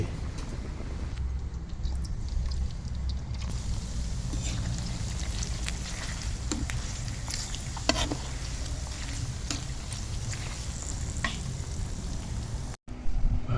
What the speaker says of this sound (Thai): ต้มเดือดๆผุดๆเลย